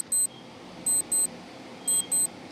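A quiz countdown timer effect gives a quick beep pair, then another pair, then a third pair, each tone bright and short over a faint steady hum, with no speech.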